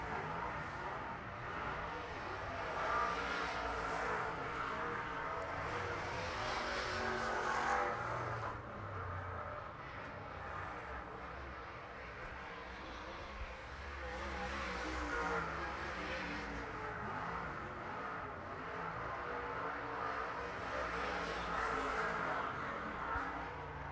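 Late model race cars circling Arizona Speedway, a continuous distant engine roar that swells and fades as the pack laps past, with a faint commentator voice underneath.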